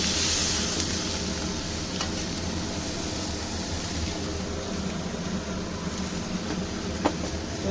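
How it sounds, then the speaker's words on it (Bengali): Vegetables sizzle steadily in a small amount of oil left over from frying fish, with a constant close crackle and occasional scrape of stirring, and no voices. "এই মাছ ভাজার থেকে যেটুকু তেল বেঁচেছিল আমি সেই তেলের মধ্যেই এই সবজিগুলো ভেজে নিচ্ছি।"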